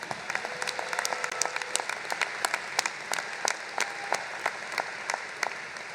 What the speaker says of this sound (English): A big round of applause for Soledad O'Brien